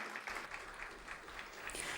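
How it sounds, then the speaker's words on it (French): Warm, sustained applause from a concert audience after a jazz band's song, many hands clapping steadily at an even loudness with no speech above it. "on peut les applaudir bien fort"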